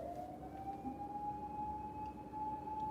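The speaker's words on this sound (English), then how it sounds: "can you guys hear the ambulance?" A steady wailing siren holds one high tone throughout, continuous and fairly loud, like an ambulance passing close by outside, with faint background hum.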